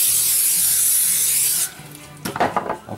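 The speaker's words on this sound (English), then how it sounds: "I'm going to spray some Pam on" Pam cooking spray hisses steadily onto a sheet pan for about a second and a half, then stops, followed by a few light clicks and rattles.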